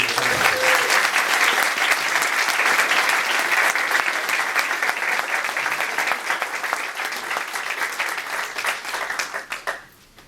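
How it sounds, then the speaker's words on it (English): A school board meeting audience applauds a student, dense continuous clapping held loud for several seconds before gradually thinning and fading out at the end. "give Jeremy a round of applause"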